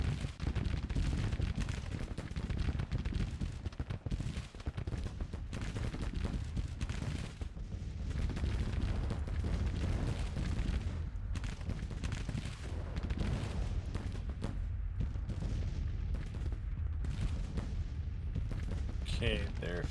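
Musket volleys and artillery fire in a Civil War strategy video game, a dense continuous rumble of distant gunfire and booms over twenty seconds with speech over it.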